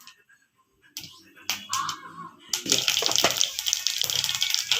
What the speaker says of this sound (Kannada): ಸ್ವಲ್ಪ ಜೀರಿಗೆ ಪಟ ಪಟ ಸಿಡಿದ ಮೇಲೆ